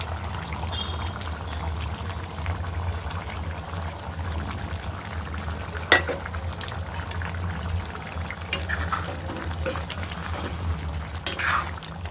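Paneer pieces are added to a drumstick masala curry in a pan, making a soft bubbling, stirring simmer with a few sharp clinks and knocks from a utensil, all close by and unaccompanied by speech.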